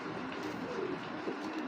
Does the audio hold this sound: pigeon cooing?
yes